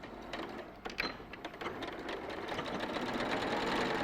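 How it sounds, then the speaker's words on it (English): A domestic sewing machine running steadily with a zipper foot, stitching down the length of a zip with nylon teeth; a continuous close mechanical whirr that builds slightly in level over about four seconds, with no talk. "I'm going to sew all the way down."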